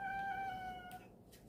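A cat meows once, a clear drawn-out tonal call close to the microphone that fades after about a second, with no talking over it.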